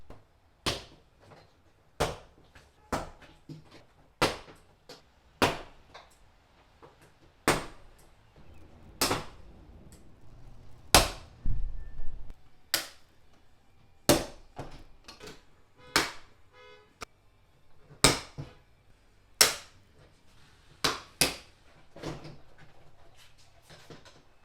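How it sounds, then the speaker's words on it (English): Plastic clips of a Chevy Colorado or GMC Canyon front door panel snap loose one after another, about fifteen sharp pops spaced roughly a second or two apart, close and clear over faint handling noise. "Just be very careful and take your time to unsnap the clips up and around the panel."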